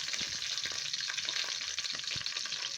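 Spices hitting hot ghee in a pan give a steady, loud sizzle and hiss throughout, with a few soft stirring knocks underneath and no voices.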